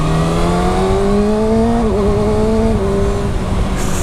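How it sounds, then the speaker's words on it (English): A 2019 Kawasaki Ninja ZX6R motorcycle accelerating hard uphill on an open road, its loud, close engine whine climbing steadily in pitch with a brief gear-change dip, filling the whole stretch with no voices. "let's get a bit of uphill acceleration"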